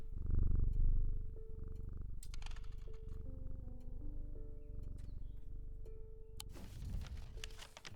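A cat purrs in the video game Strange Antiquities, a close, continuous rumbling purr under soft background music tones, with a brief louder rustling sound near the end.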